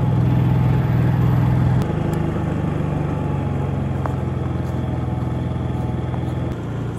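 A portable emergency backup generator with eco throttle runs steadily up close, its engine note shifting slightly as a heater load comes on, a continuous loud motor hum throughout with no talking.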